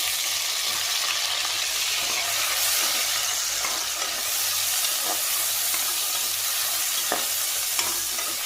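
Onions sautéing in a pan for coconut milk rice, giving a continuous loud sizzle and hiss with occasional light scrapes of stirring throughout.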